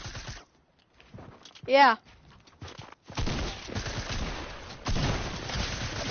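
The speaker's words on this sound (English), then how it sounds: "I just got sniped at." Sniper gunfire rings out in a video game. Sharp bursts of shots and rough noisy stretches come after a quiet start, and a voice speaks briefly.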